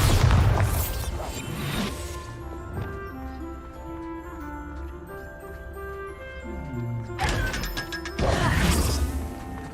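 Bombarda blasting spell cast in the Hogwarts Legacy video game, a loud crashing impact burst at the start and another near the end, with tonal game music and effects ringing in between.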